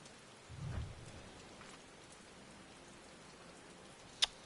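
Steady soft rain falls in Final Fantasy XIV as a quiet, even hiss, with a brief low rumble near the start and a single sharp tick near the end; no one speaks.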